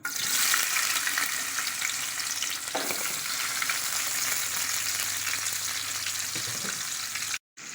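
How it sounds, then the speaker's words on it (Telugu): Onions sizzle loudly in about two tablespoons of hot oil with cumin seeds, a constant close crackle with brief stirring scrapes and a short drop-out near the end. "మనం జీలకర్ర వేసుకున్నాము. ఇప్పుడు ఆనియన్స్ వేసుకోవాలి."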